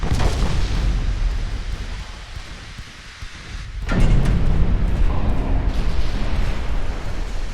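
Naval gunfire and shell impacts in the warship game Ultimate Admiral Dreadnoughts: a steady, loud rumble of battle that dips briefly before a heavy boom lands, followed by continued dense roaring of guns and explosions.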